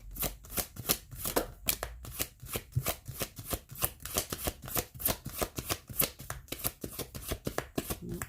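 A tarot deck is shuffled steadily up close, a rapid run of crisp card riffles and taps at an even rhythm, moderately loud and alone without any voices.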